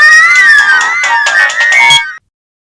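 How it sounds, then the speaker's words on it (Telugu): A phone ringtone plays loudly for about two seconds, a bright repeating melodic tone that cuts off abruptly and leaves silence. "మోహన్ గారి ఫోన్ వస్తుంది."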